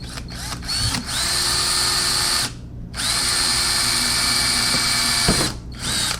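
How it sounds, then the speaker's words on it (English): A power drill bores into a carbon fiber front splitter on a Corvette C7, whining steadily in two long bursts with a brief pause between, loud and close with a high, grinding pitch. "We get to drill into this nice brand new splitter."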